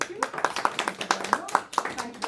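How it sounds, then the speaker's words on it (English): An audience welcoming a speaker at a community talk on special educational needs, a small crowd clapping in an uneven patter of close, sharp claps, with voices mixed in. "Please welcome Sofia with a round big applause."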